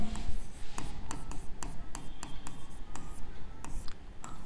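Chalk or marker strokes on a classroom board during a maths lesson, a steady series of short scratchy taps and rubs, close and moderately loud, with room noise underneath.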